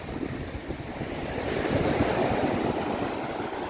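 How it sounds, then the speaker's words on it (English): Wind and surf pound a beach on Boracay in a steady, rushing roar, with waves churning continuously and gusts buffeting the microphone throughout; no voices. "It's very windy, it's very wavy"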